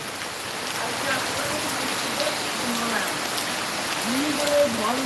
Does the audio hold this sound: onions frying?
no